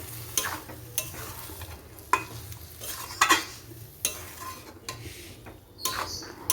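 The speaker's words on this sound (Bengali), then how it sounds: "এটাকে ভালো করে একটু নেড়ে নেব মিশিয়ে নেব কড়াইটার সাথে কিমাটা" Minced chicken being stirred and mixed in a wok (kadai) for chicken keema tadka, with repeated scraping strokes and spatula knocks over a low frying sizzle, close up and steady for several seconds without speech.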